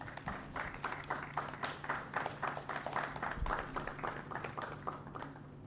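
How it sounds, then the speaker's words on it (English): An audience at a project launch event gives a modest, steady round of clapping to welcome a speaker, and the individual claps come through clearly over a low hum in the room. "please, let's welcome Dr. Dominic Otre with a round of applause"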